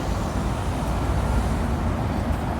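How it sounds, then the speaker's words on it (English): Busy city street traffic in Paris, a dense continuous roar of cars and larger vehicles passing nearby, steady and fairly loud with no distinct pauses. "this is crazy traffic to try and get across"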